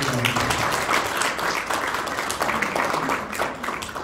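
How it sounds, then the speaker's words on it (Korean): An indoor audience at a Korean panel discussion on basic income applauds three guests with dense, sustained clapping from start to finish. "우리 세 분에게 큰 박수를 주시기 바랍니다"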